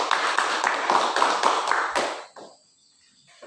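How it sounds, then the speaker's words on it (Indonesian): A classroom group claps for a presenting team: a quick run of close, rhythmic hand claps that stops abruptly after about two seconds, leaving faint room noise. "kita beri tepuk tangan untuk kelompok dua."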